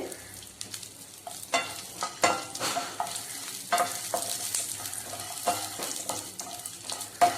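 Green chilies and black pepper frying in a pan for moringa leaf rice, a crackling sizzle broken by frequent scraping stirs and spatula knocks against the metal, close up with no talking.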